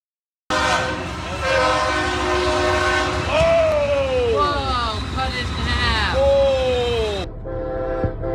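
A train horn blares repeatedly over the rumble and clatter of a passing Brightline train, loud and close, with a sharp bang near the end as it hits a car.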